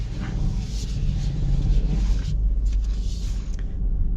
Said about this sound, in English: So let us set off in the all-wheel drive Pacifica